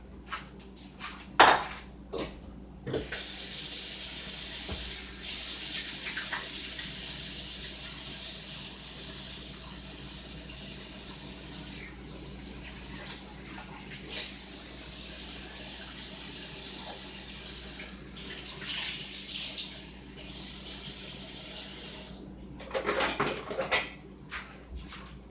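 A kitchen tap runs steadily as hands are washed during bread-roll making, a constant hiss of flowing water with brief clinks and splashes at the start and end, no talk.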